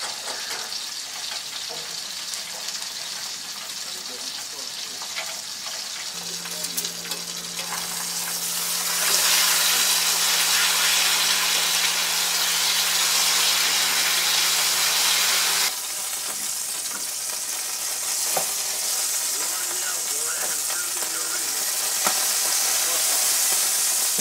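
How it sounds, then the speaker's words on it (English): Pork frying in a pan at an outdoor deer-camp tent, giving a steady, loud sizzle and spatter that swells partway through and carries on continuously with a faint hum underneath. "the only thing bad about frying pork and stuff is it's going to splatter all over the place"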